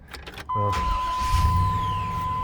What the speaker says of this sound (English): let me just start it up and I'll just kind of go through the motions here